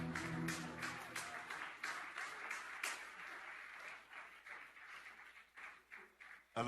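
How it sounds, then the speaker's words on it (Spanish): A crowd claps in sustained applause, with irregular bursts of clapping that gradually thin out toward the end. "Denle un aplauso fuerte a nuestro Dios."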